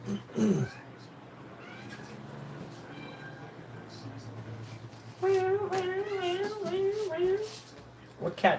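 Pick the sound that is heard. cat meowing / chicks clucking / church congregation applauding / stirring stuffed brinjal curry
cat meowing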